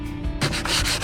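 Close, steady scraping of sandpaper rubbing over stainless steel hinges from a Gemini 3200 catamaran, a continuous gritty rasp with quick back-and-forth strokes and no talk.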